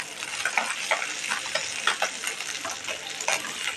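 Fried fish being lifted out of hot frying oil, a continuous crackling sizzle with intermittent sharp ticks and scraping taps of a utensil, fairly close and without speech.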